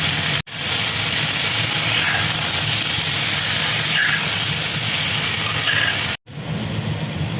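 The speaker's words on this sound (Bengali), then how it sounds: "কুমড়োটা দেখো ভাজা হয়ে গেছে" Pieces of pumpkin fry in hot oil in a pan with a loud, steady close sizzle that holds throughout, broken by two brief sharp cuts, with no talking.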